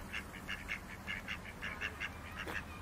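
Ducks quacking beside a river on Ibiza, a run of short, close quacks in an uneven rhythm over a soft outdoor background.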